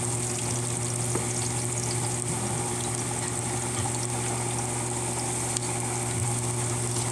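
Onion sautéing in oil in a home kitchen, a steady, dense sizzle with a constant hiss and low hum, no talking, lasting unbroken throughout.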